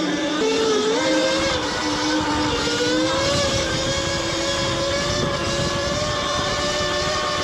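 A Razor MX650 electric mini bike runs steadily as it is ridden, its motor giving a high, sustained whine that rises and shifts in pitch, close and fairly loud, with no talking.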